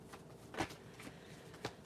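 Tarot cards shuffled by hand, a few soft brief riffling bursts spaced apart, quiet and close with no talking.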